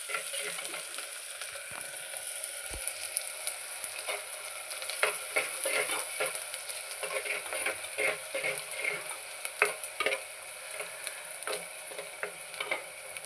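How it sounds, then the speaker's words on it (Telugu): Onions and green chillies frying in oil, a steady sizzle with scattered crackles and occasional light stirring clicks, close and moderately loud. "ఇప్పుడు ఆనియన్స్, పచ్చిమిర్చి, ఆనియన్స్ ఫ్రై చేసుకోవాలి."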